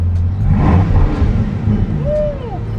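A Bugatti engine revs with a low, steady rumble that swells and surges, with a rising whine near the end, while people talk over it close by.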